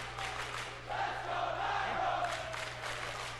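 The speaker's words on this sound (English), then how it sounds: "The crowd's pushing for him." A large crowd at the Smash Bros. E3 2018 Invitational roars and cheers, a faint, distant sustained swell of shouting that rises in the middle and holds.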